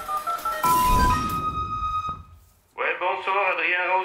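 Answering-machine tones used for a phoned-in viewer question segment on a French interview programme: a few short electronic beeps, then a sustained buzzy tone, a brief gap, and a voice speaking over a phone line.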